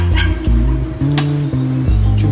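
Several small puppies bark and yip in rapid, overlapping bursts, loud and close, with whimpering tones between the yaps.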